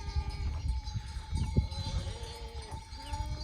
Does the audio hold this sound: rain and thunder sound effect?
no